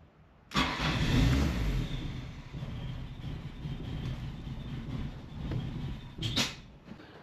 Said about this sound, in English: your engine sounded terrible. It sounded like you had a really bad exhaust leak